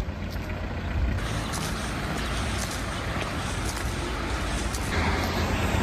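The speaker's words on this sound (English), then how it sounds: "that bus that just passed and this bus here, they go to Belgrade" A bus rolls past on a street in East Sarajevo, a steady broad rumble of engine and road noise among surrounding traffic, close and continuous throughout.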